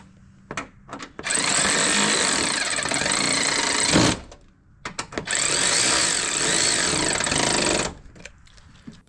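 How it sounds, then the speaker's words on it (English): Power tool running bolts down on a dual battery box for a Lexus LX470, two long loud whirring bursts separated by short taps and brief pauses. "Once you've got the bolts all started, you can go ahead and just run them all down."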